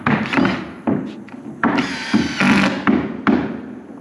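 A power drill drives screws into subfloor panels laid over concrete, sounding as several loud, close bursts of whirring and grinding with short gaps and thunks between them.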